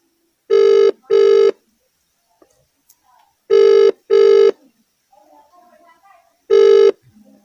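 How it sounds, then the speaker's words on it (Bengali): Ringback tones on an outgoing phone call, three bursts of paired rings with pauses between them, each burst loud and steady. Faint background sounds fill the gaps. "দেখি ফোন লাগছে কি না"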